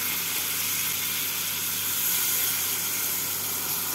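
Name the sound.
water added to pointed gourd in spice masala, sizzling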